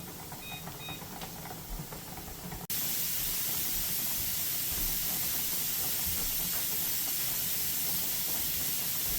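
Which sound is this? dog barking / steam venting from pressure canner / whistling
steam venting from pressure canner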